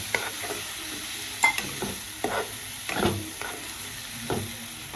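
Masala, thinned with a little water, being stirred in a kadhai for chicken rassa, heard as a soft, low sizzle under repeated scraping strokes of a spoon at a fairly even rhythm, without speech.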